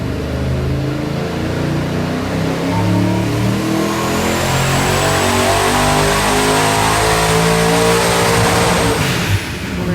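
A Buick engine running on a dyno, a loud steady mechanical roar revving and building continuously for the whole stretch, up close, with a rising high whine and no talk.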